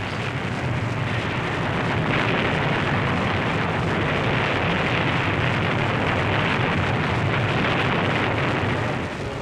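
Bombs bursting during repeated WWII Luftwaffe air attacks on Allied supply ships off Sicily, a continuous dense roar of explosions and rumbling blasts at steady loud level throughout, with no speech.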